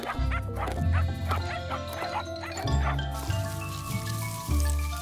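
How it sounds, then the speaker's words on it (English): Cartoon dogs barking and yipping in an animated children's storybook, repeated bright barks over lively background music, fairly loud and close. "Lines with doggies at the end."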